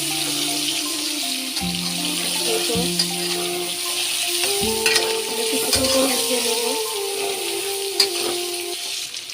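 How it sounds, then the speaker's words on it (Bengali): Potatoes and prawns frying together in a pan make a close, steady sizzle with occasional clinks and stirring scrapes, under soft background music tones. "আলু আর চিংড়িটা আগেই ভেজে নিচ্ছি"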